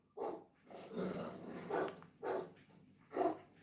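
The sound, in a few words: winged dog creature barking, video game The House of the Dead Remake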